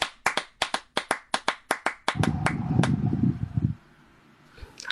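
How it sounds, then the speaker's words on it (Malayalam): About a dozen sharp, evenly spaced hand claps ring out at an Onam celebration program, then give way to a muffled rumbling clatter before fading to quiet. "എല്ലാരും വെള്ളപ്പശുവിന് നല്ലൊരു കൈയടി കൊടുത്തേ"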